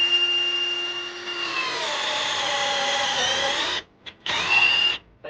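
A SATA cordless lithium-ion drill bores through a wooden board in low gear, its motor whining steadily and loud up close, then cutting out twice in brief gaps before spinning up again.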